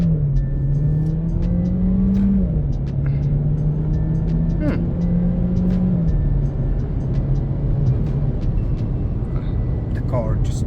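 A VW Golf 7 1.4 TSI turbo engine held at about 3000 RPM and then pulled hard in first gear, with a steady loud engine drone rising and dipping in pitch as it accelerates, cabin noise throughout.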